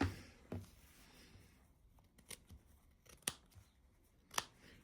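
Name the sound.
scissors clipping fabric seam allowance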